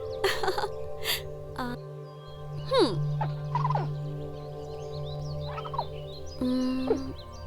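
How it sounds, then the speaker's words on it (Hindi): Two birds call back and forth, with gobbling, warbling calls rising and falling over a steady tonal hum. "वो दोनों चिड़िया एक दूसरे से क्या बात कर रही हैं"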